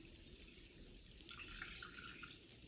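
Coffee, a pumpkin-flavored Dunkin' fall drink, poured steadily into a cup, making a soft continuous liquid trickle and splash at close range for a few seconds, faint and without talk.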